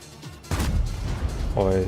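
A single loud, deep boom of a tank cannon shot in World of Tanks rings out close, with a rumbling tail, and a voice starts talking just after it.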